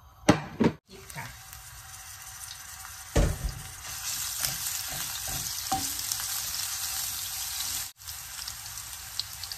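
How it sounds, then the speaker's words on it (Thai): Pork and broccoli stir-frying with holy basil in a pan, a steady hiss and sizzle throughout, with a few sharp clatters and splashy bursts, close and fairly loud, no talk. "วันนี้มาผัดนะคะกะเพรานะคะใส่บรอกโคลี่หมูนะทุกคน"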